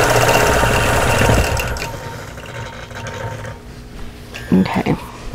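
A sewing machine stitches in the ditch along the seams of a quilted butterfly block, its fast mechanical whir running steadily for about a second and a half, then fading to a softer hum with a few brief bumps near the end.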